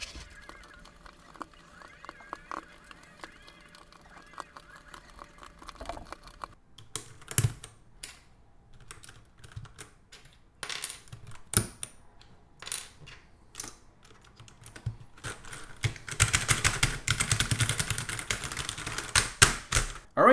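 Keycaps are pressed onto a Xiaomi Yuemi MK01 mechanical keyboard in a run of close, irregular plastic clicks and snaps, growing busier and denser toward the end.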